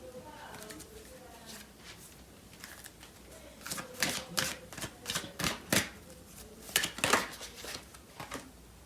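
Tarot cards being shuffled by hand, a quick run of crisp riffling snaps and flicks, close and moderately loud, starting soft and growing busier.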